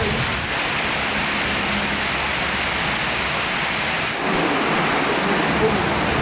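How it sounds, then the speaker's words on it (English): Heavy tropical rain pours down during a storm in Thailand, a steady loud wash of broadband hiss that barely changes throughout, with a slight shift in texture partway through. "they do proper rain here, don't they?"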